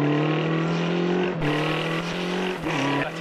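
A motorcycle engine runs loudly and close by with a steady droning tone, then the pitch lifts briefly as it is revved. There are no voices over the engine.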